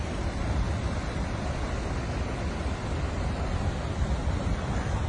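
Hurricane Beryl's storm surf and wind batter the shore at Port Royal, Jamaica, as a dense, continuous roar of crashing waves and gusting wind buffets the microphone.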